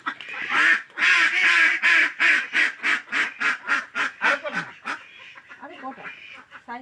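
A duck quacks loudly and close by in a fast, rhythmic series of about a dozen harsh nasal calls, tapering off into softer, sparser quacks.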